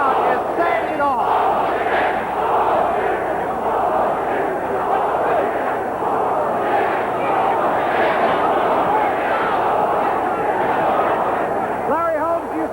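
Boxing arena crowd roaring and shouting during a brawl in the ring, a loud, unbroken wall of voices that stays intense for the whole stretch with no letup.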